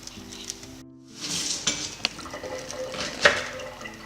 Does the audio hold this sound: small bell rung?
no